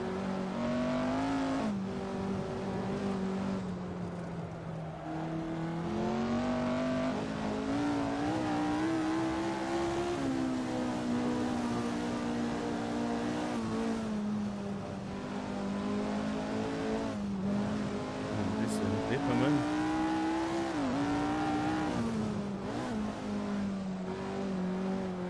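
A 1967 Formula 1 car in a racing game at the German Grand Prix, its engine loud and continuous as it lifts and drops to third gear, pitch sagging and climbing again through a downhill section with no talk.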